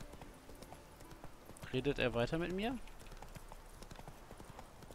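Hooves of Roach, the horse in The Witcher 3, in a quiet steady clip-clop running throughout, briefly masked midway by a short spoken line from a man.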